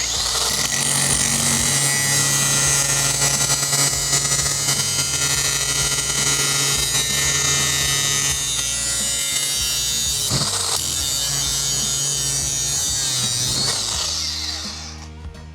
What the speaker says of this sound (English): we're gonna take one of these screws, and now we're gonna go ahead and just grind it all the way down to the wood